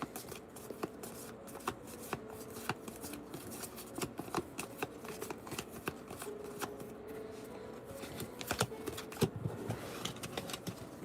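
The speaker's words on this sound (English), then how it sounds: "So we'll start shuffling these names up." Paper slips bearing names get shuffled by hand during a trading card pack break, giving a quiet, continuous rustle broken by small irregular flicks and taps.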